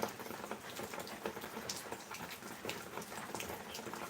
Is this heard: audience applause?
no